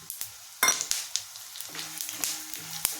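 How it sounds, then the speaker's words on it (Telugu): Coriander seeds with chana dal and urad dal crackle in hot oil in a kadai, bright sizzling bursts and sharp pops over a few seconds, close-up, with light utensil clinks and no speech. "ముందుగా ధనియాలు, శనగపప్పు, మినపప్పు వేసుకుందాం"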